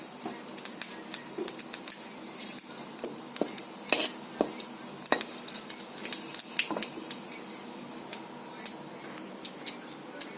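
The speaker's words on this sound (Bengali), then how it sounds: "ফোড়ন দিয়ে দিলাম" Bay leaf and whole spices temper in hot oil in a wok, a soft continuous sizzle scattered with sharp spits and pops.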